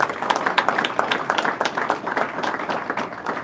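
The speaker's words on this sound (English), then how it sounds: "give her a round of applause" Audience applause at a city press briefing on an economic development initiative, a moderately sized crowd clapping steadily with sharp individual claps standing out, continuous for several seconds with no talk over it.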